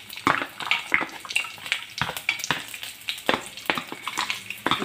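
Chopped garlic sizzling and crackling in hot oil in a preheated kadhai with cumin, a busy close spattering hiss with rapid popping bursts and no talk.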